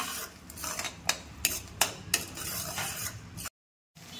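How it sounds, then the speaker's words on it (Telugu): Onion paste with turmeric being stirred in a pan for crab curry, a spoon scraping and clinking against the metal in a handful of distinct strokes over a soft background, then a brief silence near the end. "1/2 స్పూన్ పసుపు వేసుకుందాం. ఒకసారి మొత్తం కలుపుకుందాం."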